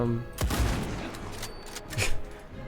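Gunshots in an Indiana Jones game on PC, played on very hard against ordinary enemies: a loud, sharp blast near the start, then several more reports spaced through the clip over a rumbling game soundscape.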